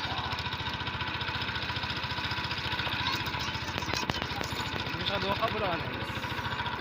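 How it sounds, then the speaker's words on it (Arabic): A motorcycle or similar small engine runs steadily and close throughout, a constant rough drone with slight rises in pitch, while someone talks over it. "زيد الموتور"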